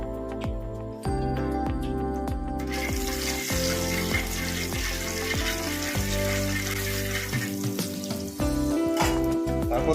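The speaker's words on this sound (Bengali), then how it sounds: "এবার মাছ ভাজা তেলে একটু কালো জিরে ফোড়ন দিয়ে দেবো" Nigella seeds tempering in hot oil left from frying fish, a steady crackling sizzle with scattered pops running throughout, occasional louder bursts and clinks, close up with no talking.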